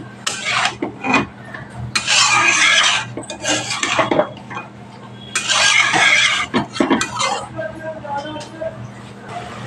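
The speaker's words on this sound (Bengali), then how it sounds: "একটু অল্প পরিমাণ জল দিয়ে সবজিগুলো ভালোভাবে কষিয়ে নেব।" Mixed vegetables are stir-cooked with spices and a little water in a pan on high flame for a fish curry. A spatula scrapes and rasps against the pan in repeated bursts while a voice talks.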